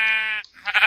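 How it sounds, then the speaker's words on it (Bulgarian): Sheep bleating in Minecraft: a single sustained, harmonic bleat up close, followed by a brief gap and a second, rougher burst of bleating. "Бия овцете за храна и за легона"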